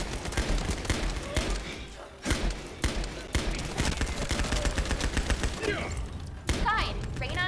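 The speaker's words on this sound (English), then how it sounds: "I like the single bullet firing sound for this machine gun" Single-shot bursts from a machine gun in the shooter game The First Descendant, firing as sharp, loud repeated cracks in uneven rhythm over a busy battle mix with other effects.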